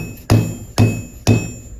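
Three sharp, ringing hammer strikes land on copper wire being shaped for a twisted bracelet, spaced about half a second apart, close and loud with no talk.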